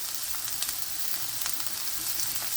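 Food frying in a pan with hot fat gives a steady, close, even sizzle with faint crackles throughout, and no one speaks.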